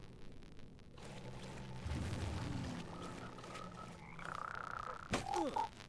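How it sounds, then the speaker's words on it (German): A frog creature in the game Mortal Shell croaks over a dim, rumbling backdrop, with a couple of hollow low croaks and a sharper burst near the end. "was war denn das für ein Frosch?"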